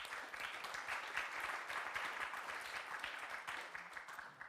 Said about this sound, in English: Please give all of our speakers a warm applause.